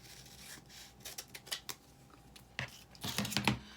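Scissors snip through permanent vinyl while trimming a design for a ring dish, giving a few short close cuts and rustles, with denser snipping toward the end.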